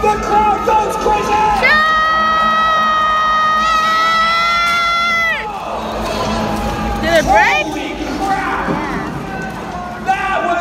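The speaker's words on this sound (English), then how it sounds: "The crowd goes crazy!" Spectators at a Pennsylvania jousting match roar and cheer loudly around a sustained horn-like tone, with excited voices shouting and whooping through the noisy, continuous crowd din.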